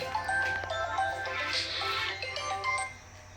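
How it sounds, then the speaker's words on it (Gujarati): A mobile phone ringtone for an incoming call plays a steady electronic melody, loud and close, for about three seconds. "જવું પડે ફોન આવ્યો"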